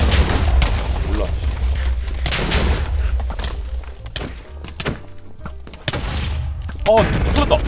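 Explosion in the Minecraft game, heavy booming thuds and blasts rumbling through a loud, chaotic mix of game noise, with a player's voice speaking over it.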